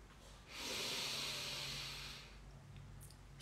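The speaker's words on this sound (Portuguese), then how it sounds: "Inspira." A single slow, deep breath drawn in during a guided relaxation exercise: a soft, airy hiss that swells, holds for about two seconds, then fades, quiet and close with no talking.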